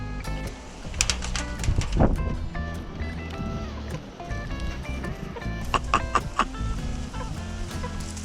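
Chickens cluck and squawk repeatedly close by, with busy outdoor noise and clattering underneath throughout.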